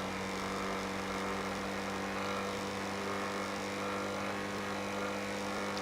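A car engine held at full throttle in GTA 5 during a race between an Audi S3 and a Mercedes A-Class, a steady, dense roar that stays flat and unbroken, fairly quiet overall, with no talk.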